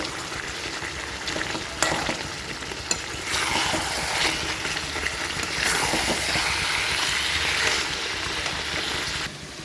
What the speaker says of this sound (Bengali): মাংসটা একদম কষানো হয়ে গেছে আমি প্রায় অনেকক্ষণ চল্লিশ পঁয়তাল্লিশ মিনিট ধরে কষাচ্ছি